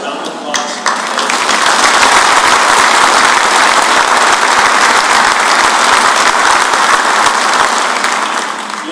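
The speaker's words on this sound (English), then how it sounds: "I want to give General Anderson a round of applause" Audience applause at a military change of command ceremony for General Anderson, a steady dense clapping that rises quickly and holds loud and full for the whole stretch, with faint voices mixed in.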